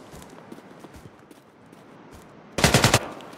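Rapid burst of automatic gunfire from the shooter game Project L33t, about half a second of closely spaced loud shots after a quiet stretch of soft background game sound.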